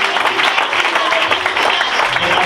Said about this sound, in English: Give him a mighty hand clap